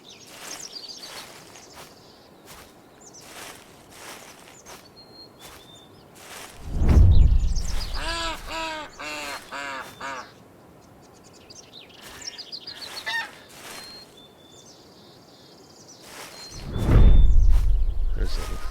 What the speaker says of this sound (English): There's a little better shot of the birds. So you got some blue-winged teals, you got a Ross's goose